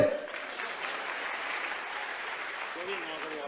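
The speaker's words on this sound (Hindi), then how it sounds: "अब ताली माली तो बजाओ रे।" A village crowd in Jait, Sehore, claps at an outdoor gathering with the Chief Minister, a steady, fairly faint wash of applause with brief voice sounds at the start and near the end.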